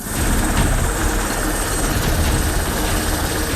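Helicopters evacuating hospital patients to Sinop State Hospital during a flood, heard as a loud, continuous rotor and engine roar close by with no voices.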